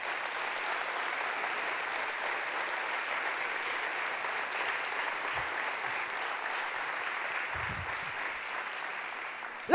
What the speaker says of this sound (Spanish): Dan un fuerte aplauso a Jesús por eso.